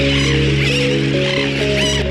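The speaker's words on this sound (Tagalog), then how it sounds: "hindi tao, kundi libo-libong ibon ang sumalubong sa amin" Thousands of seabirds crowd a sand island at Tubataha Reef, a dense, loud chorus of overlapping calls and clucks, with a steady low engine-like hum running underneath.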